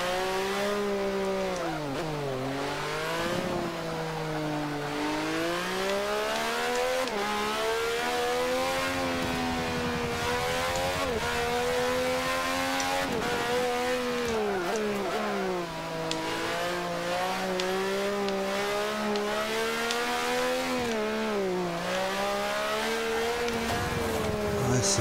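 Race car engine lapping the Nürburgring in Forza Motorsport 5, a loud continuous whine rising and falling through gear changes and braking for the whole stretch, with faint tire noise and no talk.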